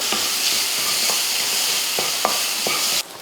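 Tomato half sautéing in a pan with ginger, garlic and turmeric, a steady bright sizzle throughout with a few soft stirring clicks, then the frying hiss cuts off near the end.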